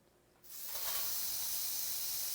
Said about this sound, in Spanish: Ese es el sonido de la fritura, es el sonido de la parrilla